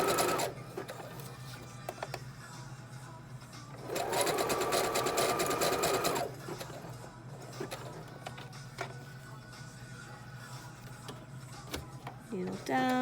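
A sewing machine stitches a fabric face mask, running in steady bursts with a loud continuous whirr in the middle, while someone talks over the quieter stretches.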